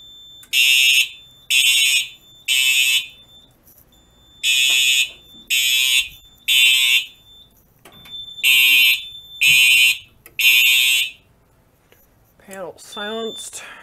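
A Simplex 4010 fire alarm system sounds during a smoke detector test: loud, piercing temporal-three pulses in three sets of three beeps, close by, with a brief burst of speech at the end.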